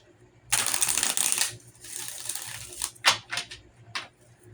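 Close-up riffling and shuffling of a tarot deck in several separate bursts, a long swishing run followed by shorter crisp snaps, with no talk.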